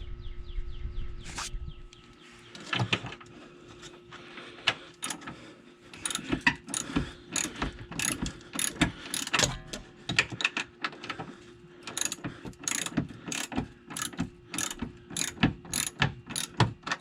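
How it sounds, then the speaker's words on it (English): A ratchet wrench clicks steadily in rapid bursts while turning a rear shock bolt on a Ford Freestar or Windstar minivan, the sharp pawl ticks close and fairly loud, with brief pauses between strokes and no talking. "Maybe I'll get that with a ratchet now."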